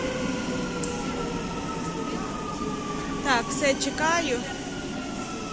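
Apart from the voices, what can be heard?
subway train arriving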